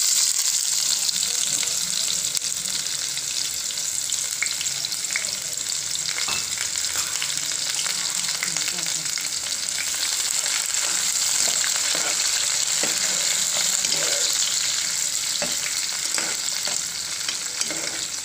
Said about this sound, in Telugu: ఉల్లిపాయ ముక్కలను వేయించుకోవాలి